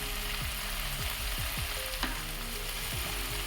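Tandoori chicken fries in a little oil or butter in a pan at home, a close, steady sizzle with small pops and crackles and no talking.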